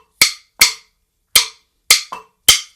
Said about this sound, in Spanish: Y la clave de son, igualmente en 2-3